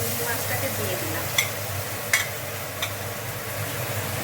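Prawns fry with onion and tomato in a steady, close sizzle, broken by three quick spatula scrapes as they are stirred.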